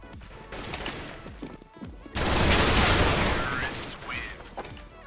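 Rapid, dense bursts of CZ-75 pistol gunfire in CS:GO, with scattered shots first, then a loud continuous fusillade that tapers off. No speech is heard.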